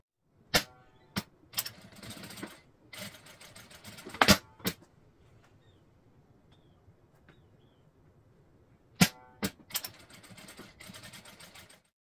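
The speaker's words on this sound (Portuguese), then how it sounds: "Vou para a máquina e vou passar uma costura aqui, tanto desse lado quanto do outro." A sewing machine stitching the seam of a circular fabric bag, running in short bursts with sharp clicks and pauses between, fairly close and otherwise quiet, no talk.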